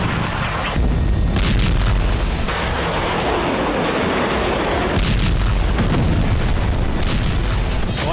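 Continuous heavy rumbling with deep booms from bombardment in southern Gaza, a dense, loud wash of explosions that swells and recedes across the whole stretch, with no voices.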